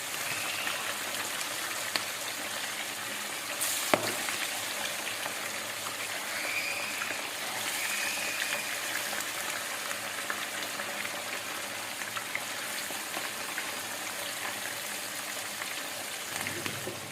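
Masala-coated food sizzles in oil in a large frying pan, a steady crackling hiss that runs throughout with a few louder pops and clatters.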